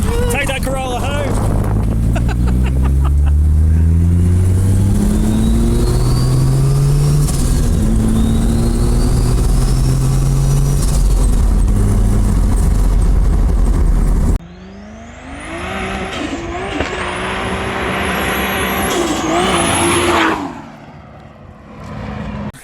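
A Toyota AE86 Corolla fitted with a 1JZ engine revs hard, loud and close, its pitch climbing in repeated rising sweeps before a second, higher-pitched screaming run that cuts off abruptly.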